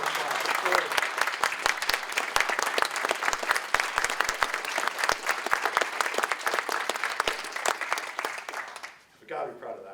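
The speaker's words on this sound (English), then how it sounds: "So can you please stand up for a big round of applause?" An audience at an academic alumni honors event applauds loudly and steadily for about nine seconds, the clapping dense and sustained before fading out abruptly near the end.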